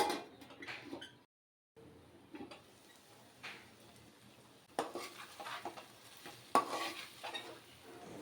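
Drumstick pieces with tomato coat in ginger garlic paste in a lidded pan, giving a soft, intermittent frying hiss broken by clinks and scrapes of a spoon against the pot, with a short silent gap near the start.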